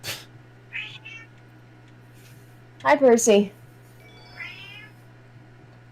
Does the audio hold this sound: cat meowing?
yes